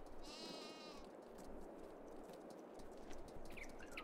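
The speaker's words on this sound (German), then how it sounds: "Und ich habe einfach lustige Ziegen auf dem Hof." Goats on a farm in the Farming Simulator 22 video game bleat faintly a couple of times against quiet ambient farm noise, with no talking.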